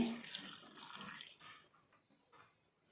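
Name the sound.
pouring a little water into the pot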